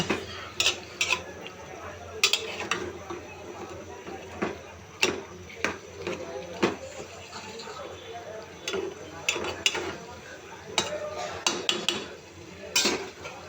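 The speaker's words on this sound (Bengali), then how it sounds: "সবগুলো একসাথে খুব ভালোভাবে মিক্সড করে নেব" Mustard greens, eggplant and potato being stirred together in a pan, a utensil scraping and clinking against metal in irregular sharp knocks over a soft continuous rustle, close and fairly loud, with no talking.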